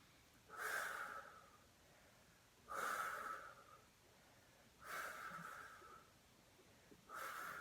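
Forceful breaths from someone doing a beginner/intermediate Pilates mat exercise: four loud, breathy exhales, each lasting about a second, come in an even rhythm roughly two seconds apart, close and alone with quiet gaps between.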